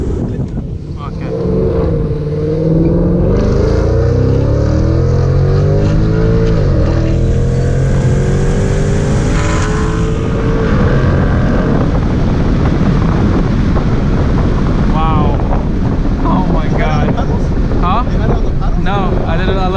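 A supercharged Ford Mustang GT pulls hard under acceleration, its engine note climbing steadily and loud with rising harmonics, heard from inside the car with wind noise and people talking over it.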